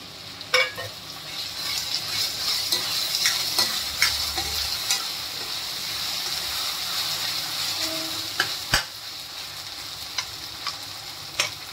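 Two large tomatoes sizzle steadily in a pan of masala chole while a spoon stirs them, scraping and clinking against the metal at irregular intervals.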